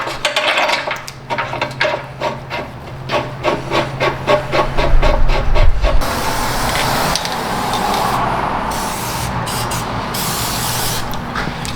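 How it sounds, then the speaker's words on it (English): A spray can is worked on a rotted-out Toyota Prius: first a quick run of rhythmic rattling bursts, then a loud, close, continuous aerosol hiss with a few brief pauses. "Spray it on that one."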